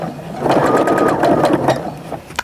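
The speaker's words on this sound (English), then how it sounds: "And then I'm just going to stitch in place for a little bit." A sewing machine stitches a mug rug design, running in a steady close mechanical whir with a fast rhythmic needle patter that holds for a couple of seconds and then slows near the end.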